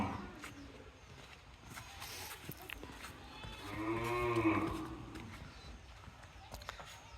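Cattle at a village cattle market, with a single clear moo rising mid-clip over a faint crowd and hoof clatter background.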